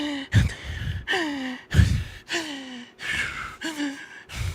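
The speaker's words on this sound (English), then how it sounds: "She is breathing so hard." A frightened woman breathes hard, with loud, ragged gasping inhales and shaky, voiced exhales repeating in a quick uneven rhythm. It is heard close up and alone.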